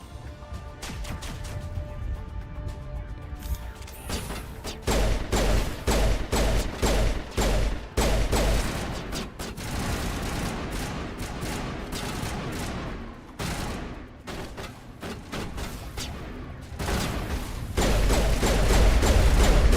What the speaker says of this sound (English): On the Vanguard, I use pistols and shotguns,